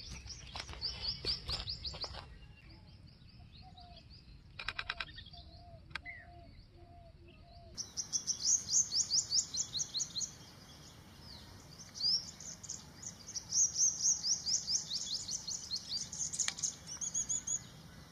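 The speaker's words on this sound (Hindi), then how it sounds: "यहाँ पे देखिए सामने एक कोयल भी बोल रही है" An Asian koel calls in the morning near a large wild honey bee hive, its repeated rising calls coming in bursts among other chirping birds, moderately faint and at a distance, with no voices.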